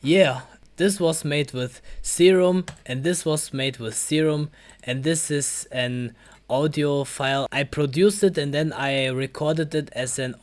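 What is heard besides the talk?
No distinct noise like a dog, phone or traffic.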